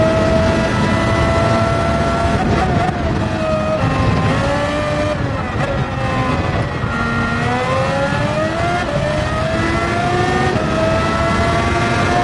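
Race car engine in Gran Turismo 7 during a Nations Cup round at Suzuka, revving loud and continuous with rising and falling pitch through gear changes and throttle on corner exits, no talking.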